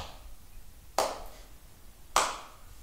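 Two sharp hand claps, spaced about a second apart, ring out alone against a quiet room tone.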